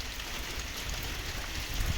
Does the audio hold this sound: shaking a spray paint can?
no